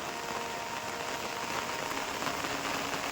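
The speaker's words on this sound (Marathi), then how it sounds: "पाऊस जोरात चालू हा" Heavy village monsoon rain falls steadily, a dense, even hiss of drops on surfaces with no pauses and no voices.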